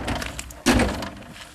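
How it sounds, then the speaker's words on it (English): Cab door of a 2005 Bobcat 331 G Series mini excavator unlatching, a single sharp thunk of the latch releasing, close and loud, with faint background rustle before and after. "door unlatches."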